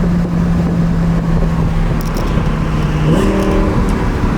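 A 1000-horsepower twin-turbo Lamborghini engine drones loudly at steady revs from inside the car, then shifts up in pitch with a sharp change as it downshifts and revs.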